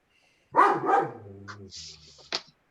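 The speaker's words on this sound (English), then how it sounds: "My dogs are barking" Dogs barking at home during a community meeting call, a short burst of a couple of close, loud barks followed by a softer yip, with no talking.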